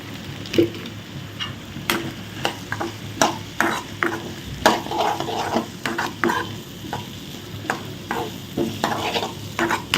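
Vegetables tossed with masala in a hot pan for a lunchbox dish, giving steady close sizzling with repeated scraping and clacking stirs of a spoon against the pan throughout.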